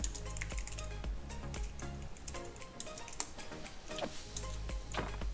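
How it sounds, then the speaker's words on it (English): A computer mouse right-clicking over and over during play, quick light clicks in an irregular rapid rhythm over a faint background, fairly quiet and close. "I am right-clicking constantly while holding the spawn catalyst"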